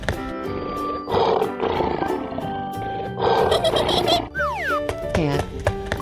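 A lion's roar rises over bright, busy music in a 3D animal slide video game, with chimes and sliding synth tones, fairly loud and close.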